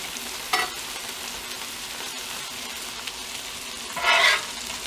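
Onions fry in a pan with a steady low sizzle, broken by a couple of sharper bursts of hissing as they are stirred or moved, close by, with no talking.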